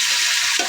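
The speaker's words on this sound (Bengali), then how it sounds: "তেল দিয়ে আলুটা আগে একটু ভাজা নিব।" Potatoes frying in hot oil on a lit stove, a steady, close hiss of sizzling with a slight bubbling swell near the end.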